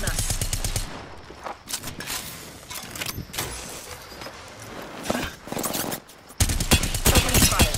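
Bursts of rapid automatic gunfire in the battle royale video game Apex Legends, loud repeated volleys crackling in close succession with game sound effects between them.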